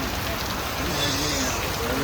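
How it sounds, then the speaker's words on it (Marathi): Steady rain falls outside, a continuous even hiss with no gaps, while voices talk faintly underneath. "पाऊस पडायला लागला बाहेर"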